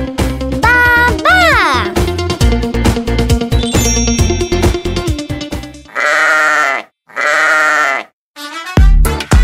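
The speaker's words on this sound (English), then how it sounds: "The sheep goes ba ba." Two short bleats stand apart near the end, following a bright, busy stretch of chiming electronic music.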